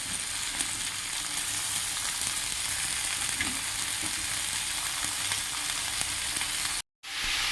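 White amaranth greens added to fried vegetables in a pan, giving a steady, bright sizzle with faint stirring bumps, briefly cut to silence before the hiss returns.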